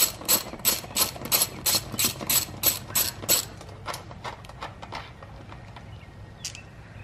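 A hand ratchet clicks rapidly in loud, even bursts while loosening a bolt during a motorcycle stripdown, the rhythmic pawl clatter slowing and thinning out before stopping.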